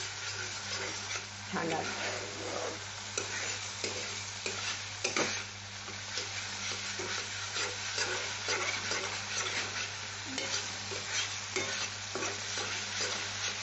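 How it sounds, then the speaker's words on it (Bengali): Spices, sugar and paneer stuffing for a vegetarian pointed gourd dorma are sautéed in a pan, a continuous sizzle broken by repeated scraping stirs of a spoon, with a brief quiet spoken word. "একসাথে সব একটু আস্তে দিয়ে কষে নেব"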